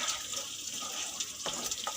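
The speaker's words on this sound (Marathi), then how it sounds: "आणि मग पाणी टाकायचं आपल्याला जेवढा पातळ हवा रसा तेवढा पातळ करायचा" Water splashes into a pan of fish curry masala for a mackerel (bangda) curry, a soft, continuous pouring wash with a few brighter splashes near the end.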